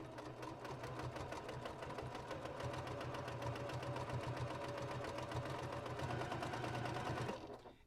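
A sewing machine stitches back and forth along the side of a quilt, a fast steady mechanical whir and needle chatter running continuously and close before stopping abruptly at the end.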